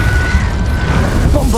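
Confringo blasting spell in the video game Hogwarts Legacy, a loud, dense rumbling boom that holds steady for about a second and a half, with a voice briefly audible in the mix.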